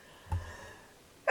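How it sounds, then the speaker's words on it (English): A single short sneeze-like burst early on, fairly close and moderate in loudness, in a quiet indoor room while planner pages are worked on, followed by a sharper noise near the end. "Hold on, I have to sneeze."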